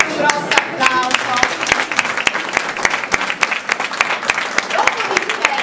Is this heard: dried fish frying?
no